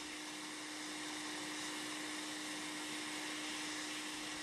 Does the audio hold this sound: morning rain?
no